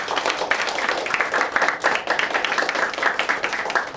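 A room full of seated managers at a recruitment talk breaks into dense, steady clapping that holds at a fairly loud, even level for the full four seconds, with no voices over it.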